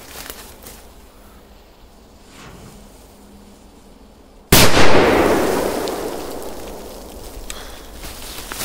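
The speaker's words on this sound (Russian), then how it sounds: "Мощные петарды." A powerful firecracker or bundle of firecrackers bursts with a sudden loud blast partway through, followed by a long decaying roar and crackle, after a stretch of quiet outdoor ambience.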